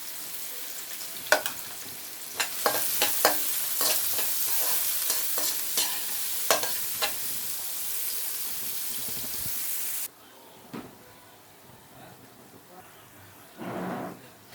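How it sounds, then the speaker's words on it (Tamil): Oil sizzles and crackles steadily as chopped onions fry in a pan, with bursts of stirring scrapes; the sizzle drops off abruptly partway, leaving quieter clatter. "இப்போ நறுக்கி வச்ச வெங்காயம் ஃபஸ்ட்டு போட்டுடலாம் போட்டுட்டு நல்லா பொன்னிறமாக வர வரைக்கும் வதக்கிக்கலாம்"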